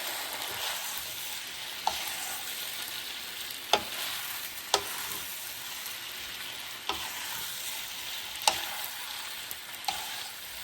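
Lo mein noodles with sauce stir-fried in a pan, a steady close hiss of frying with occasional sharp utensil clicks against the pan, no one speaking.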